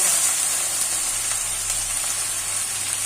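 Bombay duck fish frying with spice paste in a pan, a steady bright sizzle and hiss running throughout at moderate level, with no talking.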